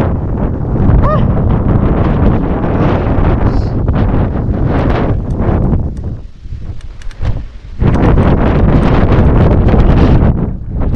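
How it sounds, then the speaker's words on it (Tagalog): Strong wind roars over the microphone during a mountain bike ride in Libungan, North Cotabato, a loud continuous buffeting that dips briefly in the middle before surging back. "Ganda, sarap ng hangin."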